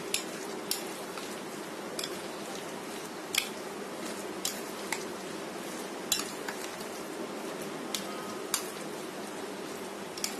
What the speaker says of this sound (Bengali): আমি ভালো করে মিশিয়ে নিচ্ছি।